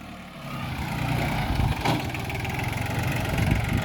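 A Yanmar 16 hp three-cylinder tractor engine with a rotary tiller attached runs at a steady, close chugging idle, with the load rising slightly as it works hard soil.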